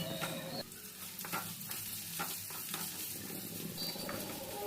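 Bitter gourd pieces fry with dals, chillies and curry leaves in hot oil, giving a steady close sizzle broken by several sharp stirring scrapes and clatters, with no voices.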